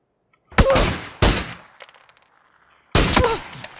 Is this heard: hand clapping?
no